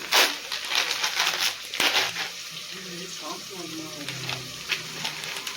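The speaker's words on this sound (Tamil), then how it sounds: "இது வந்து வெங்காயம் வந்து நல்லா வதங்கின்னு இருக்குது" Onions sautéing in a pan for a quick pulao and cauliflower dish: a steady broadband sizzle with stirring scrapes, fairly close, while someone talks over it.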